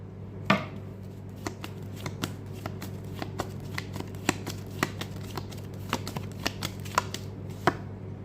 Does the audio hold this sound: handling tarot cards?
yes